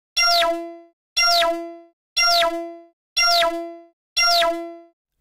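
A synthesized Gundam-style sound effect built in Xfer Serum within Ableton Live: five identical bright, plucky electronic hits evenly spaced about a second apart, each striking sharply and decaying quickly into silence.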